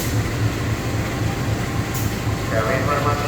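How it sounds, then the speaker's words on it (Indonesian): The Bengawan passenger train stands at an Indonesian station with a low, steady rumble and hum. A station announcement and voices carry over the drone, with a faint squeal partway through. "Dan ini dia kereta api Bengawan yang akan saya naiki."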